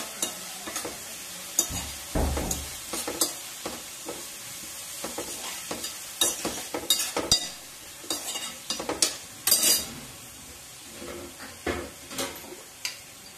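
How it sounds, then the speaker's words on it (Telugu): Half a spoon of ginger garlic paste fries in hot oil, soft sizzling under repeated scraping and stirring of a spoon against the pan, close and irregular. "ఒక హాఫ్ స్పూన్ అల్లం వెల్లుల్లి పేస్ట్ అన్నమాట. ఈ ఆయిల్లో వేపేద్దాము, చక్కగా వేగిపోద్ది."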